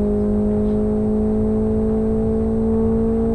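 A simulated Opel Astra 2.0 turbo engine in Live For Speed sits near its rev limiter, holding a loud, steady, high droning tone with no break.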